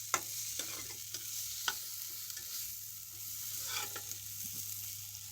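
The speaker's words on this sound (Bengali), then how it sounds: "এই যে আমাদের রান্না হচ্ছে।" Tangra fish and potato chorchori cooks in a pan with a steady, faint sizzle, broken by a few sharp stirring clicks and scrapes, with no talking.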